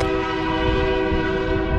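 Train horn blaring in one long, steady chord over the low rumble of a passing train, fairly loud and sustained without a break.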